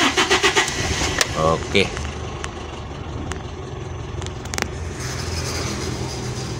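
A 1995 Toyota Kijang Grand Extra with a 1.8 engine starts with a brief cranking rattle, then settles into a steady close idle while someone speaks briefly over it.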